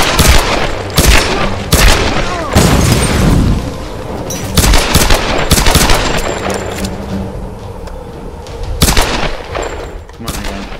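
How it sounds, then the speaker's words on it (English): Gunfire from enemies in the video game Tomb Raider cracks out in loud, sharp bursts and rapid volleys at irregular intervals, with brief quieter gaps between. "He's shooting at us!"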